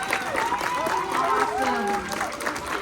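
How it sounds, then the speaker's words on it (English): A crowd applauds steadily at an aquarium show, the clapping mixed with cheering voices and some tonal sound running through it for the whole stretch. "let's give them a big round of applause in support of all the hard work they did here today"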